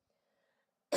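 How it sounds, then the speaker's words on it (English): A single short, sharp cough bursts out near the end after almost a second of near silence, close to the microphone and alone without speech. "Okay, just need to have a cough."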